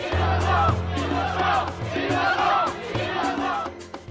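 An angry crowd roars and chants in loud, rhythmic swells of massed shouting that rise and fall about once a second.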